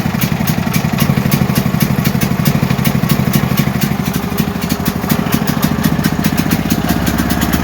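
A Duramax 8500 dual fuel generator engine runs steadily as its throttle is adjusted, giving a loud, close, continuous drone with a fast, even pulsing beat and no voices.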